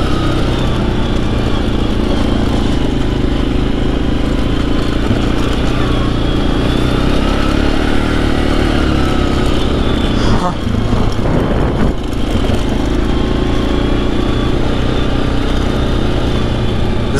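A Suzuki KingQuad ATV engine drones steadily and loudly while riding, a constant close motor hum with slight changes in pitch throughout, and a voice speaks over it.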